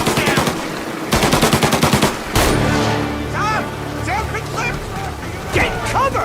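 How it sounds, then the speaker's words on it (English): Bursts of automatic and single-shot gunfire in a combat firefight from the video game Mafia 1 Remake, loud rapid volleys early on, then scattered shots amid shouting voices and background clamor. "When combat breaks out here, the player must use a combination of tactics and weapons to defend Sam."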